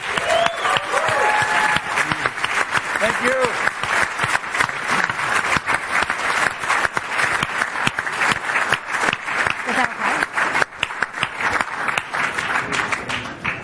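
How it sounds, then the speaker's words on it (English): Loud, sustained applause from an audience at a business club event thanking panelists, dense clapping filling the room for over ten seconds, with a brief thank-you spoken under it. "Can we have a huge round of applause?"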